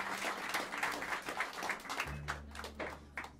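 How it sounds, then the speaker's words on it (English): Audience applause at Smalls jazz club in New York City for drummer Kush Abadey during a John Ellis Quartet set, a dense steady patter of clapping from a small crowd with a bass note and faint voices underneath. "give a warm round of applause for the great Kush"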